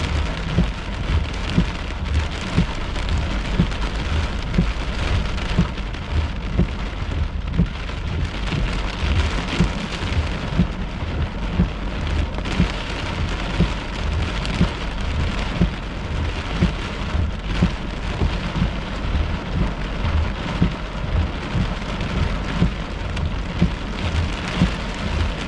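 Heavy thunderstorm rain pours steadily during a tornado chase in July 2022. Dense, close downpour with a deep rumbling undertone runs without break, and no voices are heard.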